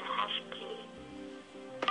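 Telephone keypad DTMF tones as a star code is dialed on an office phone system, a few short beeps close and clear with a brief pause between presses.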